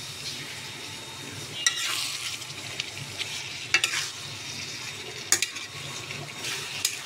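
Baim eel fish pieces added to potatoes sizzling in a pan, with continuous frying crackle and several sharp spatula scrapes and clinks against the pan, close and alone without talk.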